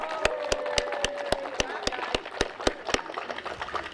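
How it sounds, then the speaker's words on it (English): Applause at an outdoor Arbor Day tree-planting gathering in a rail yard: sharp, close, evenly paced claps from a nearby clapper stand out over softer crowd sound, about a dozen beats before they stop. "can we first do a big round of applause to everybody that has helped plant the 20 trees"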